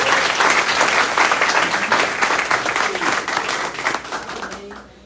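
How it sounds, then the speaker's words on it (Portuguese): A large church congregation applauds loudly and continuously, the clapping holding steady before fading away at the end. "Você pode aplaudir a Jesus por isso"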